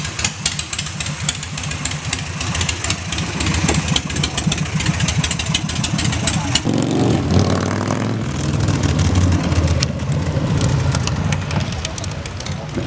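A Honda XL1250 scrambler motorcycle engine runs steadily while being ridden, a loud close continuous drone with a rough pulsing beat that shifts in tone partway through as the revs change, and wind buffeting throughout.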